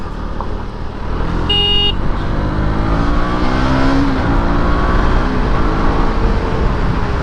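Vehicle engine running steadily and loud while overtaking on a road with oncoming bikes, with a brief horn toot early and continuous road and engine drone throughout; no talk.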